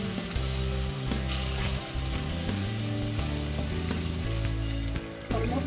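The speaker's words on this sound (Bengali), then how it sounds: "মশলা কষানো হয়ে গেছে, উপরে তেল উঠে গেছে।" Spices frying in oil in a pan for a Bangladeshi-style fish bhuna, a steady close sizzle with irregular stirring scrapes and clatter throughout, no voices.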